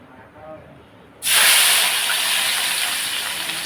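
Oil heats in a pan on a lit stove, cooking fish curry: after a brief quieter moment a loud, steady sizzling hiss bursts in and keeps going, close by.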